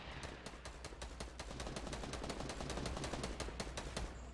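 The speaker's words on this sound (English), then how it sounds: "I shot him once." A long, steady string of evenly spaced gunshots in Fortnite Battle Royale near Loot Lake, sharp repeated cracks at a quick regular rhythm, fairly distant and faint, with no talking.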